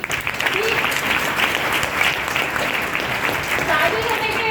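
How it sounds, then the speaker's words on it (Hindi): An audience at a Raipur gathering gives loud, sustained applause for a woman's husband, a dense steady wash of clapping with a voice surfacing faintly near the end. "तो आज मैं अपने हस्बैंड के लिए मैं जोरदार ताली चाहूंगी"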